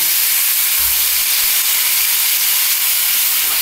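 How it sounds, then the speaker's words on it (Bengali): A steady, loud hissing sizzle fills the whole stretch as chutney is stirred in a hot wok, with no voices. "এর মধ্যে আমি একটু কড়াইতে নেড়ে নিচ্ছি।"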